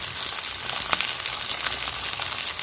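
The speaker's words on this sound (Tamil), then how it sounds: "பாதி தக்காளியை சேர்த்து நல்லா வெங்காயத்தோடு நல்லா வதக்கிக்கிறோம்" Steady, close sizzling of tomato and onions sautéing in a hot pan, with a few soft stirring scrapes; no voices.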